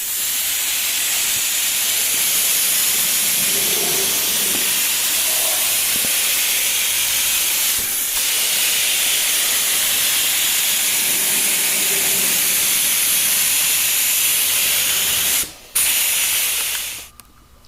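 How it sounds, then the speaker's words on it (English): A spray gun shoots seam sealer onto a Jeep ZJ wheel well, giving a loud, continuous close-up hiss that runs nearly unbroken, then stops and sputters in short bursts near the end. "I'm gonna shoot my sealer on. I'm gonna do the wheel well."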